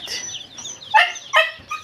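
Domestic chickens squawk in a sudden commotion at a backyard feeding among rabbits and pigeons, with a few sharp, loud bursts of clucking and squawks over a busy background of other birds.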